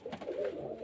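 A male pigeon coos softly in a brief, low, throaty burble, faint and close, with no voices.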